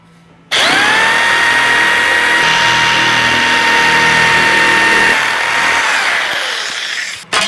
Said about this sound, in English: you can see what a great job and a quick job the Ket shears do on pieces like this